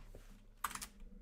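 A computer keyboard gets a few quick, faint keystrokes in a short cluster, soft plastic clicks near the microphone in an otherwise quiet room.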